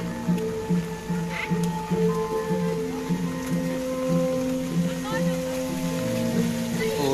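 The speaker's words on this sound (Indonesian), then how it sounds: "Hujannya sangat lebat lur tadi ya." Heavy rain pours down steadily with water splashing, a dense continuous wash of drops, with music or a tonal hum running underneath throughout.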